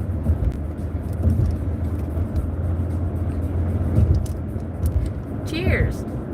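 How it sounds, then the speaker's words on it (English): Late-afternoon road traffic of cars passes in a continuous broadband rumble, fairly close and steady, while people talk over it. "Yeah, there's traffic, but at the moment it's not a grinding halt."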